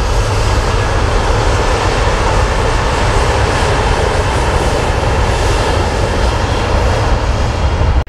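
A Ryanair Boeing 737-800 takes off at Manchester Airport with a loud, steady roar of jet engines at full thrust that fills the whole stretch, with no voices.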